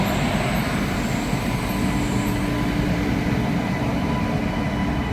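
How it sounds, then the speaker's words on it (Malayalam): A loud, steady rumble with rattling fills a railway station as the Ernakulam Fast Passenger train passes or idles nearby, continuous throughout with faint high tones above and no voices. "ഇത് എറണാകുളം ഫാസ്റ്റ് പാസഞ്ചർ"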